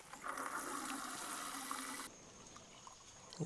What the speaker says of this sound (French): on va tout simplement charger l'eau à l'intérieur